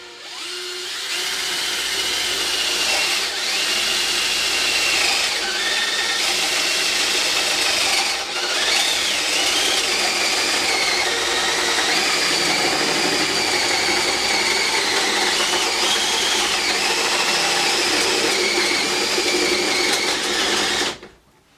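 A power drill with a 1-inch spade bit bores the lock set hole through a door, whining and grinding steadily for about twenty seconds, loud and close, before cutting off abruptly.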